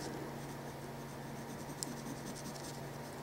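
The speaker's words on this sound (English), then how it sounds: "we'll darken these a bit with a 5H pencil" A hard 5H pencil shades and darkens leopard spots on drawing paper, a soft, steady scratchy graphite rasp with a few faint ticks, quiet and close.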